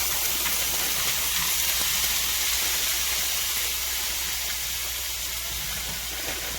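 Potatoes fry in olive oil in a pan, giving off a steady, loud, broadband sizzle and hiss that stays constant throughout, with no voices.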